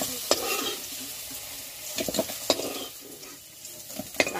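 Potatoes fry in a wok over a wood fire, a soft continuous sizzle broken by several sharp scraping stirs and clinks of the spatula against the pan, with no talking.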